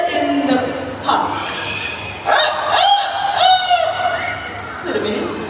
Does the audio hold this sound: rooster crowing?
yes